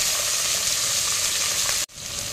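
Vegetables frying in a pan for Bengali bhoger khichuri: a constant close sizzle that cuts out abruptly near the end, then resumes more quietly.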